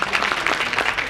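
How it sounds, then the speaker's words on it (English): Audience applause for dignitaries at an IEEE international conference inauguration ceremony, a steady wash of clapping from a crowd filling the whole moment. "Please give a big round of applause for all the dignitaries"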